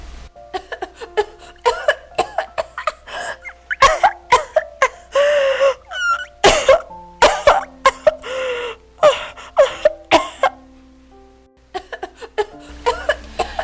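A person gasps and coughs in repeated, irregular bursts, with strained breaths and moans between the coughs.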